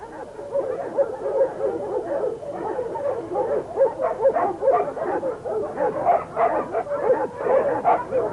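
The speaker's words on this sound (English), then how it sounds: "Long-haired, short-haired, big dogs, smaller ones. Some bark, others don't." Working farm dogs bark and yip in a rapid, overlapping chorus, several dogs at moderate distance with some whimpering mixed in, continuous throughout without talk.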